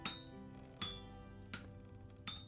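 A hammer strikes iron on an anvil in the Vintage Story video game, giving four evenly spaced, ringing metallic clinks that fade between blows.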